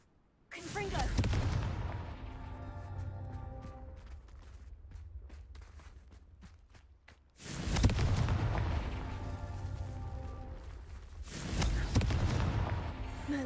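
Two booming blasts from the Confringo spell in the video game Hogwarts Legacy. Each explosion hits hard and rolls off into a rumbling tail, with crackling game effects between them.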